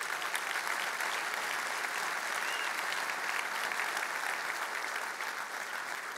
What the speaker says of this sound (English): Who wants to give a round of applause for your SC or SREs?